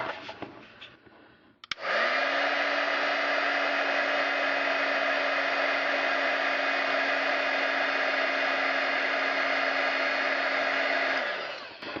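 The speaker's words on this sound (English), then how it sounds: "I'm going to heat it up using my heat tool" An embossing heat tool blows hot air over heat-and-stick powder. It switches on with a click and holds a steady, loud, close whirring hiss for about ten seconds before cutting off.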